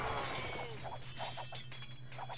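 Buildings crumbling under attack in an Age of Empires II HD 2 vs 3 match produce scattered crashing, shattering hits at moderate loudness, spread irregularly across the clip over a low background drone.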